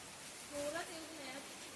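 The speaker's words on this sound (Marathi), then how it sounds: "तर मी आता पावसात भिजते मस्त पैकी." Light summer rain falls steadily in a Konkan village as a soft, even hiss, with a brief, faint voice over it.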